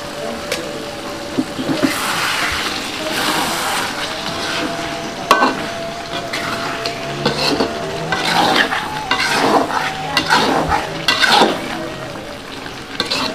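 Ayam Koto Gadang chicken sizzles in a pan as it is stirred, with steady frying hiss, scraping stir strokes and occasional clinks of a utensil against the pan, close and fairly loud with no talk.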